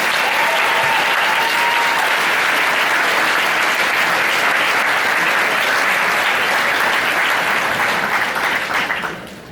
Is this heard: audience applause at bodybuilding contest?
yes